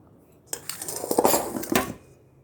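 A brass cooking pot handled up close in a home kitchen, giving a burst of metallic clanks, knocks and scrapes lasting about a second and a half between quiet moments, with no talking.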